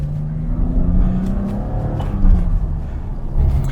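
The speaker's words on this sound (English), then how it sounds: "This is an engine that makes all the right noises." Alpine A310 V6 sports car engine pulling away, a loud steady low rumble with a rising tone as it accelerates, swelling briefly near the end.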